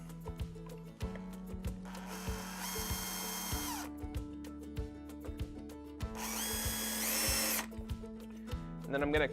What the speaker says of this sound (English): I'm just going to mark my pilot holes here.